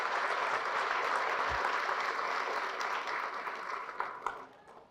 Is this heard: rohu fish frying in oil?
no